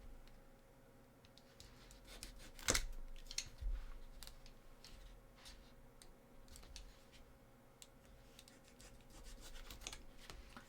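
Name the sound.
cutting the ends off a cosplay piece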